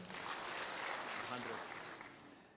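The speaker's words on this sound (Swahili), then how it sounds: "Mpigeni makofi." Applause for Senate majority leader Aaron Cheruiyot at a church retirement celebration for a bishop in Kiambu County, a steady wash of crowd clapping that holds for a couple of seconds and tapers slightly at the end.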